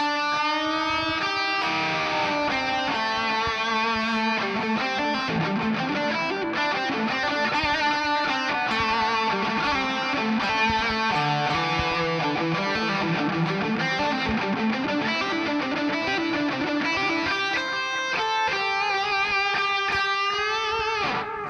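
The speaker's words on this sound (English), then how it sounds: "We can have a blues lick that sounds something like this" A distorted electric guitar plays a blues lick, with bending, sustained notes flowing in a steady, unhurried phrase throughout.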